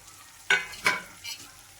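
Poha hits hot tempering in a pan and is stirred. Two sharp sizzling bursts come close together, then a softer third scrape of stirring, all close up and alone.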